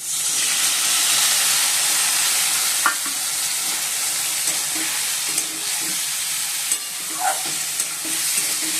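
A pan of ginger paste, green chilli paste, cumin, turmeric and tomato fries with a steady, bright sizzle, broken by occasional scraping stirs of a spoon, close and continuous with no talking.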